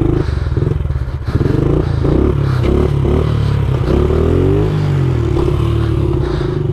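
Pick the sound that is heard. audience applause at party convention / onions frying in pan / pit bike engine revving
pit bike engine revving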